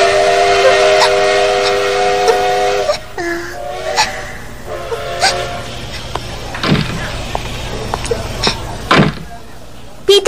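Steam train whistle blowing loudly with sustained harmonic tones as the train prepares to depart, followed by hissing steam, clanks and a voice speaking briefly.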